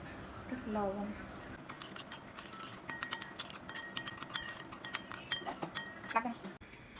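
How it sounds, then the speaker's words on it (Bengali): A spoon clinking against a bowl while soy, chilli and tomato sauces are stirred together, a quick run of bright metallic taps and scrapes up close, with a voice speaking briefly at the start. "সব একসাথে মিশিয়ে নিব।"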